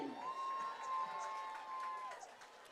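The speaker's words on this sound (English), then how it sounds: "The crowd goes wild for his tackle." A crowd at a high school football game between Wilmington High and Burlington High cheers after a tackle, a sustained rising whoop of voices heard from a distance, fading over a few seconds.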